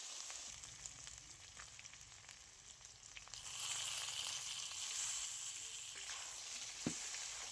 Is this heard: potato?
yes